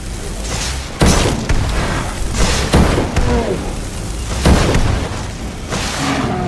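A fire spell cast at a troll in Skyrim erupts in repeated booming, crackling bursts, loud and close, over a continuous roaring background.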